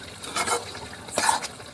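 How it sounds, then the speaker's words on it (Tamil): Chicken varuval bubbling and sizzling in a pan after water was added, with two short bursts of frothy crackle and scraping, fairly close and without speech. "பாருங்கள், நல்லா கொதிச்சு வருது."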